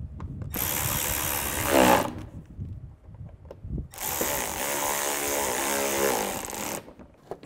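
Power tool driving bolts into the upper grille of a 2011-2014 Chevy Cruze, two sustained whirring runs of a few seconds each, close by, separated by quieter handling noises.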